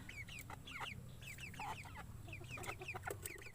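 Japanese bantam chickens clucking nearby, a string of short repeated clucks and chirpy calls over a low background hum.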